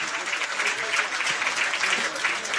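Steady audience applause at an amateur rugby match as a player leaves the field, a dense wash of clapping hands continuing throughout at moderate volume, with no break.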